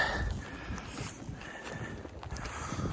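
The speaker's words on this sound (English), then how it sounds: "Wind's picking up too" Gusty wind on a steep mountain hiking trail in North Carolina, a steady rushing roar buffeting the microphone with low rumble throughout, no talking.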